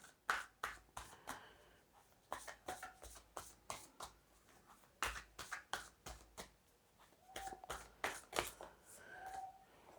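Ancestors oracle cards shuffled close up, a quick run of sharp papery snaps and riffles in uneven bursts, faint and with no voice.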